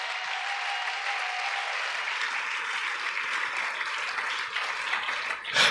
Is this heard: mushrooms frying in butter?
no